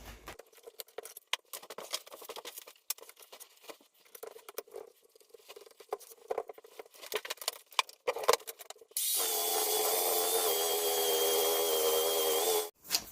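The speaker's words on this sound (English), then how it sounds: "I'm going to use the belt sander, go over this, try and clean it up a little bit" A belt sander runs across the end grain of a plywood standing desk, a loud, steady, near grinding roar that lasts about four seconds after a stretch of scattered handling and scraping noises.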